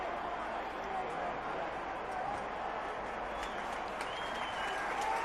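A large stadium crowd at the Santiago Bernabéu during a Real Madrid player presentation cheers and applauds in a continuous, dense roar that holds steady throughout.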